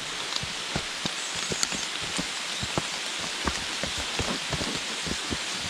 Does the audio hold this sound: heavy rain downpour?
yes